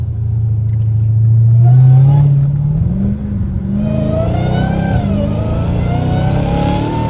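A supercharged Dodge Hellcat Redeye with a cat-back exhaust revs on a street, a loud deep engine drone rising and falling with supercharger whine, heard steadily from inside the car with no talk.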